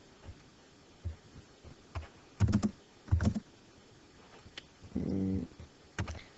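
Keys pressed on a calculator while solving a triangle problem, a few sparse clicks then short clustered bursts of tapping, with a low hum between presses and no talk.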